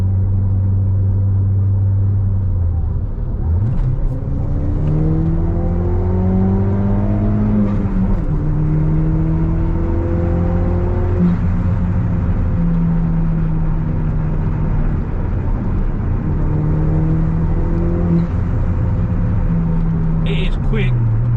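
A stage 1 remapped R56 Mini Cooper JCW with a Cobra exhaust accelerates hard, a loud droning engine note rising steadily through the gears with brief dips at each shift, close and continuous throughout.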